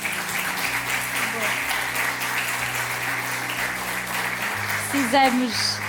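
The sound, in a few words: audience applause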